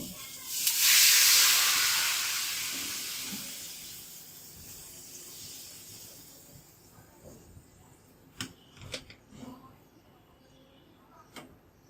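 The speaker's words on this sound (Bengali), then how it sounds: "আর নাড়া করা শেষ এবার আমি জল দিয়ে ফের ঢাকা দিব" Water added to a hot pan of fish and potato curry gives a loud, sharp steam hiss that fades over a few seconds, followed by quieter clinks and knocks of cookware.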